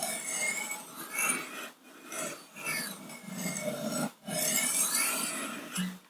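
Light, close rasping strokes of a knife edge on a Wicked Edge Go sharpener, a few uneven passes with short gaps, clearing a residual burr, no talking.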